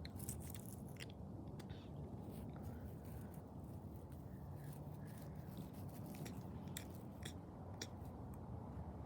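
Close, quiet crunching and tearing of a horse chewing grass on a pasture, a steady rhythm of bites with soft squishy mastication and no speech over it.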